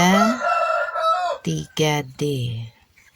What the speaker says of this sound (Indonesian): Jadi ayam rainbow-nya masih berkokok.